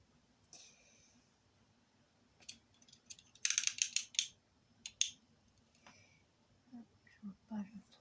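Paper is snipped with scissors, with a quick burst of crisp cuts, one more snip, and then soft rustling as the sheet is handled. A quiet voice whispers close by.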